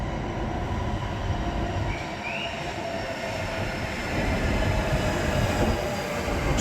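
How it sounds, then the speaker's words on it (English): Metro train in Istanbul pulling into a station, a loud continuous rumble of wheels and carriages with a faint brief squeal, close by and no talk. "Comes our train."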